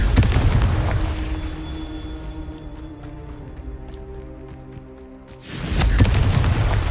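Confringo blasting-spell explosions in Hogwarts Legacy: loud, deep booming bursts open and close the stretch, with a quieter, rumbling lull between them.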